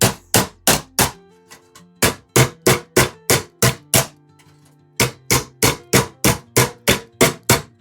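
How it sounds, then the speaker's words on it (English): Hammer tapping a round awl held against a metal WW2 blackout lamp, sharp ringing metallic strikes in quick regular runs of about a dozen, with a short pause between groups, close and loud. "Hold this round awl in the back and then tap."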